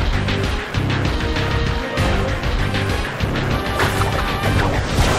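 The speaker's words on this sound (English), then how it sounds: "A smashing blow!" A heavy smashing hit lands in a Pokémon Battle Revolution battle, a loud crash rising out of a dense, continuous wash of battle effects and music that carries on for several seconds.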